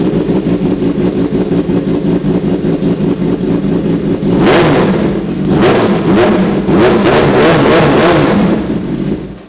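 A loud, raspy superbike engine with an SC-Project full-system exhaust revving hard in repeated blips over a steady idle, its exhaust crackling close by with no voices.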